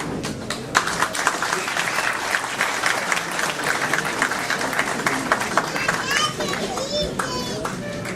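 Audience applause at a shield presentation during a naat contest in Holland, steady dense clapping throughout with children's voices and chatter mixed in.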